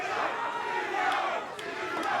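A boxing arena crowd roars in support of Gabriel Bracero during his fight with Winston Mathis, a brief, fairly distant wash of cheering and shouting.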